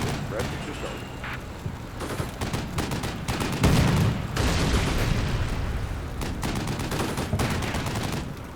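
Rapid machine gun bursts in the wargame Combat Mission Black Sea, raking a building in a rural combat scene, with a heavy low boom near the middle and talk over the top.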